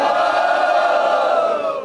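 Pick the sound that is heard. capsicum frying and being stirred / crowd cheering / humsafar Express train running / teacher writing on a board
crowd cheering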